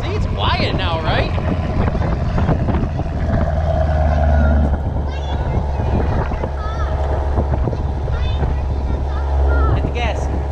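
A 2019 Chevrolet Camaro SS engine idles after a cold start with a steady deep rumble close by, while people talk over it and wind buffets the microphone.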